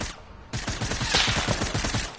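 Rapid bursts of video game gunfire rattle in a dense, rhythmic volley at moderate loudness, the shots following one another quickly for about two seconds without any talk.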